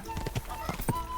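Hooves of a horse ridden in Kingdom Come: Deliverance II, a quick clip-clop rhythm of several close hoofbeats, with a voice speaking over them.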